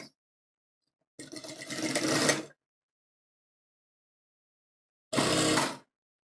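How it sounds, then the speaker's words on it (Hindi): A sewing machine stitches lehenga fabric for a 16-panel kalidar lehenga, running in two short bursts with silence between, the first longer than the second, with no talking. "और यहाँ पे सिलाई लगा देंगे"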